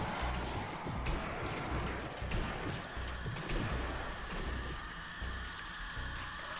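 Rifle fire in the zombie shooter Zombie Army Trilogy, a run of cracking shots and crashing impacts over a steady dense game din, loud throughout with no speech.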